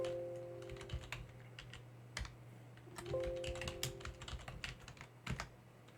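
Keys clatter on a computer keyboard as a ping command is entered on a Linux machine, with irregular close taps and a few louder keystrokes over a steady low hum, no talking.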